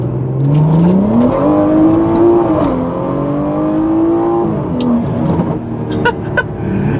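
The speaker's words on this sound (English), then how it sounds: "That was at the light, and I just floored it, and it was just spinning through the light." A rear-wheel-drive BMW 340i floored from a stop, engine revving hard and climbing steadily in pitch as the rear tires spin, loud and close, with a brief dip and renewed surge.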